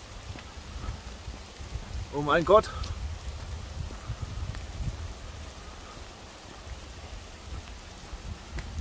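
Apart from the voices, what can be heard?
rain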